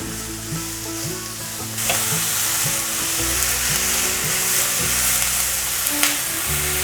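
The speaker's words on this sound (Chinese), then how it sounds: "放入锅内， 把白萝卜炒软，" White radish is stir-fried in a wok, giving a steady loud sizzle with scraping stirring strokes throughout, close up and with no talking.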